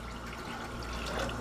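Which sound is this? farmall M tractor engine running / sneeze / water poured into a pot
water poured into a pot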